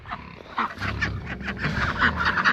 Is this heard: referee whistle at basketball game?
no